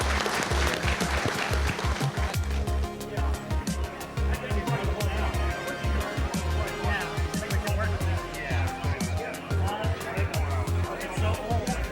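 A conference audience at a vintage computer festival breaks into sustained, loud applause with scattered cheers and crowd chatter, the clapping dense and continuous throughout.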